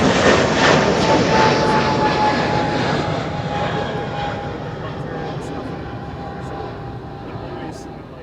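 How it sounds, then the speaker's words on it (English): A Boeing 747 jet rolls for takeoff on runway 18 left at Amsterdam Schiphol, a loud, steady distant engine roar that slowly fades over several seconds, with a faint whine running through it. "And the 747 is rolling on 18 left."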